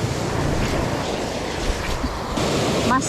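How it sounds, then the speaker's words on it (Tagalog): Strong ocean waves surging against a rocky shore where someone is fishing, a steady broadband wash of surf with wind buffeting the microphone, continuous and fairly loud throughout. "Mas malakas pala mga tayong alon dito."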